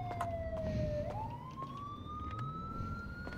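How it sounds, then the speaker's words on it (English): A police siren in a GTA FiveM roleplay game wails steadily, dipping and then rising in a long sweep over the rumble of a road vehicle, loud and close. "Oh, I hear the sirens."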